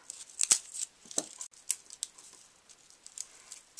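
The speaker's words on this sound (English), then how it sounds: "And then cut off the ends" Scissors snip through the ends of woven wheat straw, making a few sharp, crisp cuts up close, followed by light rustling and crackling of the dry straw.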